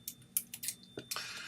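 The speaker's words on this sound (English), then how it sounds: "I guess I'll just try to get my scissors here." Several crisp scissor snips in quick succession, close and fairly quiet, with a short pause before a final longer cut.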